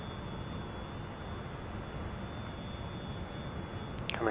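A Su-27 jet engine spools up in the DCS flight simulator, a steady, fairly quiet broadband roar with a thin high whine that swells slightly near the end.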